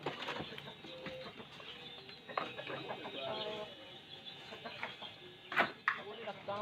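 Chickens cluck in short bursts close by, mixed with people talking in Minang over a busy background.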